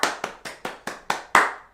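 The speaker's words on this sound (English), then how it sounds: "Let's give him a round of applause." Seven sharp, evenly spaced hand claps from a single person, close and fairly loud, each ringing briefly before the next, with the last one hardest and longest.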